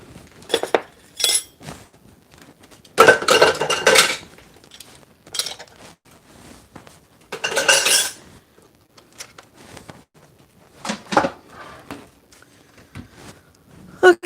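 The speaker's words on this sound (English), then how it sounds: "I'm going to put my dishes in the sink." Dishes clatter and clink into a kitchen sink while potatoes cook on the stove, coming in several loud bursts of metal and glass knocks with quieter handling sounds between them.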